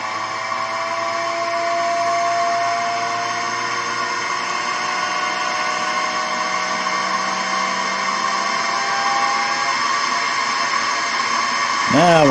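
Steady roaring hiss of a Charlek off-grid gas cooker burner, continuous and fairly loud with a constant tonal whine, running unchanged throughout before a brief sweeping sound at the end.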